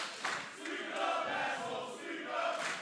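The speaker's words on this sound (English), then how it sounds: "This IPW crowd is so disrespectful." Wrestling crowd at an IPW show jeering from a distance, a muffled rolling mass of voices with swelling shouts, fairly faint and continuous.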